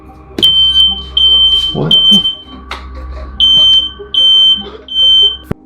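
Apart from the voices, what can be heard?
fire alarm going off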